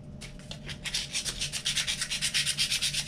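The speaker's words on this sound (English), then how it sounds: "I'm just gonna apply a little bit of sandpaper all around." Sandpaper rubbed by hand over a small wooden Ugears puzzle part, a close, quiet scratching in quick, regular back-and-forth strokes that get faster and stronger, with no voice.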